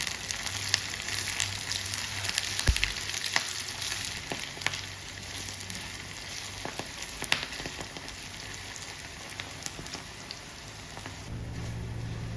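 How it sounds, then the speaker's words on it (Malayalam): Garlic and ginger fry in hot oil for a tuna fish pickle, a steady, close sizzle with fine crackling that runs unbroken for over twelve seconds, with occasional sharper pops and no talking. "വെളുത്തുള്ളി ഇഞ്ചിയൊക്കെ മൂത്ത് വന്നിട്ടുണ്ട്, നിറം മാറി തുടങ്ങി"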